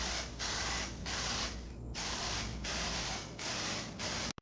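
Spray paint hisses onto a forged carbon fiber wing in repeated short bursts, about seven close, loud blasts separated by brief pauses, with no voices.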